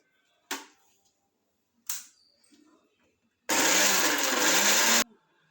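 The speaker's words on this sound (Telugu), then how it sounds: "ఫిష్ కావాల్సిన మసాలాస్ బాగా గ్రైండ్ అయింది." A mixer grinder whirs loud and steady for about a second and a half, grinding masala paste for fish fry, after two sharp knocks as the jar is set in place.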